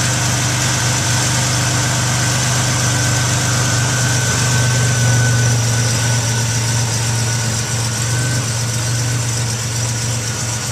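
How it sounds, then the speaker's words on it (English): A 1987 Buick Regal T idles steadily with a deep, throaty exhaust rumble, loud and close, holding an even low drone throughout with no voices. "Got a real throaty exhaust."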